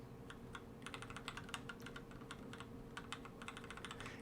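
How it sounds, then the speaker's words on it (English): Keys clack steadily on a computer keyboard during play of BSD games, a quiet, continuous run of close, irregular taps with no talking. "I should probably be looking at the keys that I'm hitting."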